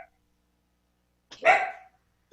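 A single sharp dog bark, close and fairly loud, comes from somewhere in a room during a remote meeting. It is surrounded by near silence, with faint clicks at the start and end.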